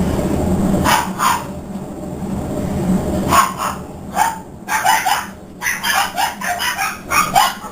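Several dogs bark in short bursts near a loud Whirlpool Cabrio washing machine, with barks clustering around the middle and end over a steady low mechanical rumble.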